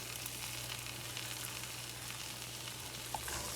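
Eggs and torn tortilla sizzle steadily in a greasy pan for migas, a constant close frying hiss with faint scrapes from stirring.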